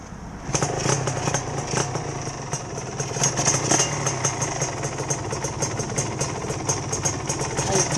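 A Honda VR150 motorcycle idles steadily at close range, its exhaust putting out an even, fast-pulsing rattle with a bright mechanical ticking throughout.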